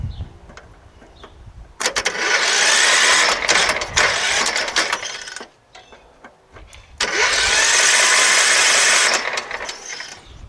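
Kohler SV15S engine on a Scotts Murray hydrostatic lawn tractor with a shorted ignition cranking over after the solenoid is jumped with a wrench: two loud, close bursts of whirring starter churning, each lasting a few seconds, with a quiet pause between.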